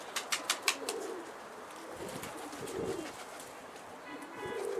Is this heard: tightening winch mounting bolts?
no